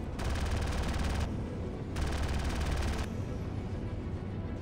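Rapid automatic weapon fire in the space game Star Citizen, patch 0.8, comes in two sustained bursts of roughly a second each, loud and dense, separated by a lower steady rumble of engine or ambient noise that continues after.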